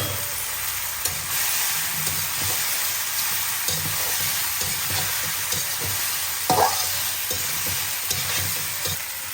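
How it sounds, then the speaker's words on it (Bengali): Pasta being tossed into a pan of fried onion and tomato: a continuous sizzle with soft, repeated scraping and stirring strokes, close and steady, with no voices. "যে পেঁয়াজ ভাজা হয়ে গিয়েছে, পেঁয়াজ টমেটো, এখন আমি পাস্তা দিয়ে দেবো"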